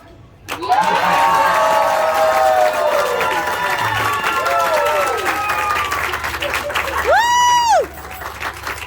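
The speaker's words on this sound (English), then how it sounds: "An applause is for you." Live audience at a magic show bursts into loud applause and cheering after a linking ring trick, with sustained clapping, shouts and whoops, and a voice calling out over the crowd.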